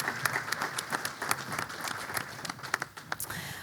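An audience applauds to welcome a panel at a discussion on persecuted Christians in Kuwait, a dense, even wash of many hands clapping at close range for several seconds.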